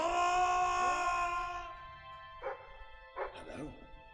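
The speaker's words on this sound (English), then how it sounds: "Sounds like the dog's found something." A dog in the fantasy role-playing game Fable 3 barks twice, two short, sharp woofs fairly close by. They come after a sustained tonal vocal sound at the start.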